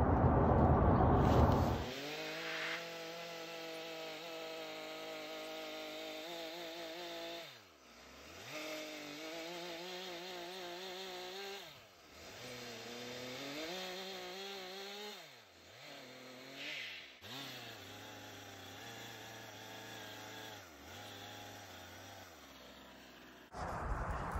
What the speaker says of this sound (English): how to cut a straight line with the chainsaw